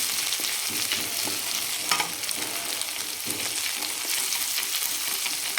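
Mutton masala is sautéed in oil in a pan, making a dense, continuous frying sizzle up close, with soft stirring scrapes underneath.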